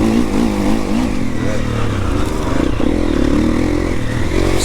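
A new four-stroke enduro motorcycle being ridden, its engine droning loud and steady up close with shifting revs and some chain clatter throughout, no talk.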